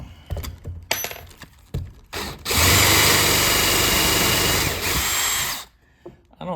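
Power drill spinning a Harbor Freight Warrior carbon steel tapered drill bit, a loud steady whirring run of about three seconds after several short clicks and handling knocks, then winding down to clatter.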